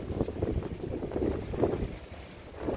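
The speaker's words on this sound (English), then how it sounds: "Very, very windy." Strong wind at the Oregon coast near Yachats, Cape Perpetua, roaring and buffeting the microphone in uneven gusts, a thick low rumble throughout with no voices.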